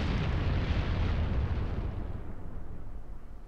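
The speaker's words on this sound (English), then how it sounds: "Another underwhelming explosion." A loud explosion in the video game Disgaea 4: a heavy broadband boom with deep rumble that starts at full strength and slowly decays over a few seconds, heard on its own with no talk.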